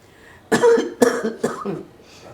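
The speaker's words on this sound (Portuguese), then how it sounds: "Tosse?" Two or three harsh coughs close up, separated by brief pauses, followed by a softer trailing cough.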